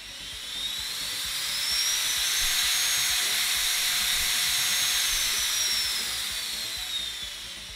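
A JisuLife Fan Ultra 2 handheld fan running at full 100% power gives a loud, steady high-pitched whine with airy hiss, rising in at the start and holding constant before easing slightly at the end.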